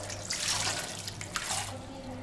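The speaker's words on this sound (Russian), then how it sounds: "Заливаем баклажанчики водой." Water splashes onto sliced eggplant in a bowl, a continuous hissing pour with uneven gurgles and small splashes, close and moderately loud, with a low hum beneath.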